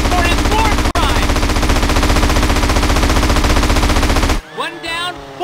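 Loud rapid machine-gun fire in GTA San Andreas pounds in a continuous burst for several seconds, broken by one brief gap, then cuts off into quieter game sounds.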